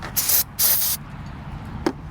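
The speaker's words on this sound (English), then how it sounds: "I'm just going to spray it." Two short hissing bursts from a spray bottle of cleaner onto a Honda Civic engine surface, close by, followed by a brief faint click.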